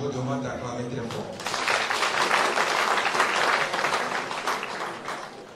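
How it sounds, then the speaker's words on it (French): Audience applause at a school awards evening honoring laureates, a dense broadband wash of clapping that swells after a brief spoken lead-in and holds steady and loud through the rest. "pour qui je vous demande d'acclamer très fort"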